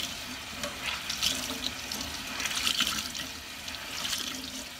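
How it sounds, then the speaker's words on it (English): Tap water runs steadily into a sink while a tie-dyed shirt is rinsed, a continuous splashing wash with soft sloshing bursts, close and moderately loud, with no talk. "you just want to rinse until the water is not completely clear"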